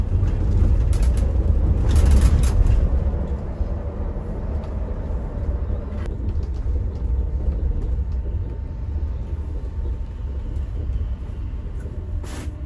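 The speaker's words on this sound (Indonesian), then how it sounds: "Sekarang kita lihat bus balapan dari sini" Buses race past on a toll highway at night, a steady broad road rumble with tire roar that swells early and then holds, heard from inside a moving bus with no talk.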